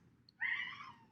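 A single short cat meow rises clearly out of a quiet room, close by and moderately soft, lasting under a second.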